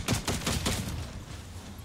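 Rapid bursts of video game gunfire from a newly picked-up weapon during a Fortnite-style match, several sharp shots in quick succession at the start, then trailing off into lower rumble and ambient game noise.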